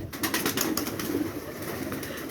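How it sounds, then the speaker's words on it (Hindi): A topi pigeon coos softly at close range, low repeated cooing under background hiss and faint fluttering, with no talk. "पहला ये टोपी कबूतर है जी"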